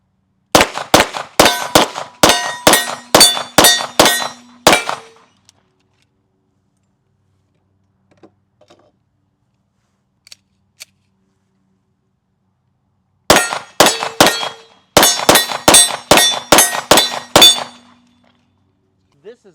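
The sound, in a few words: Sig P211-GTO pistol shots hitting steel targets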